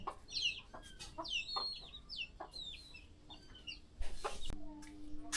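Chickens cluck and call close by on a farm in short, repeated bursts, with a sharp knock near the end followed by a low steady hum.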